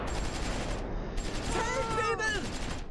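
Gunfire in the war game Close Combat IV, a rapid crackling fusillade of shots and small-arms bursts that runs throughout, with a brief dip, while someone speaks over it.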